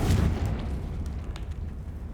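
A Confringo spell explosion in the video game Hogwarts Legacy: one deep, loud boom at the start that rolls off into a rumbling decay, with no talk over it.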